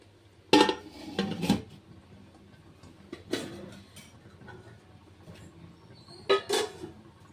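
Several sharp metallic clanks, close and brief, as a lid knocks and settles onto a pot of biryani, with quiet pauses between the clatters.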